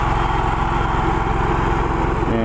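A vertical mower runs on Bermuda golf greens with a steady, loud engine drone and rattling blades, continuous and close throughout.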